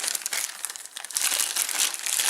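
A plastic bag crinkles and rustles steadily for a couple of seconds as a small found item is set down on top of it, close and fairly loud with no talking.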